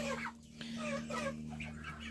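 A small backyard chicken clucks softly in a few short, close calls over a steady low electrical hum.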